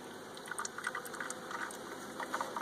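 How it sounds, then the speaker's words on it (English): Sugar syrup bee feed pours into a hive, a quiet liquid gurgle and patter with small bubbly splashes, close and steady for a few seconds, no talking. "You just pour that right on in."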